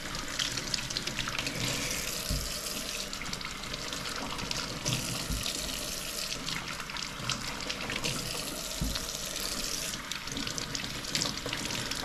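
Potatoes are washed under a running kitchen tap, a steady close splash of water with occasional soft knocks, continuous throughout and free of talk.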